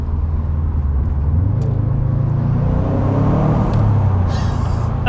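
A rare version of a JDM legend car drives with a loud-spec exhaust, its engine a steady close rumble and whir inside the cabin that rises and shifts pitch as it accelerates, with no talk over it.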